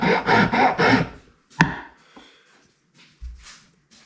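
A round wood rasp files band grooves into a wooden slingshot, making several rhythmic rough scraping strokes up close, followed by a sharp knock and a few lighter scrapes.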